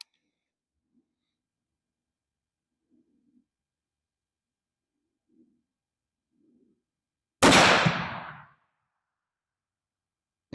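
A single loud rifle shot from a .450 Bushmaster firing Hornady ammunition into ballistic gel cracks sharply after near silence, its report rolling away over about a second, preceded by a few faint small noises.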